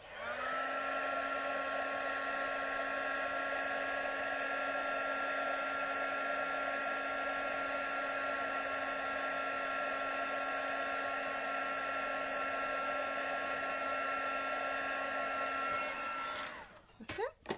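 A handheld heat tool blows steadily and loudly while melting white embossing powder for a stamped card, a continuous whirring roar that holds for about sixteen seconds before cutting off abruptly, with a few small clicks after.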